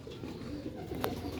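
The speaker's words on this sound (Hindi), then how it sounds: "सियालकोटी काली मूंह वाला कबूतर।" Soft, low cooing of a Sialkoti black-faced pigeon repeats in gentle throaty phrases, close by against a quiet background hum.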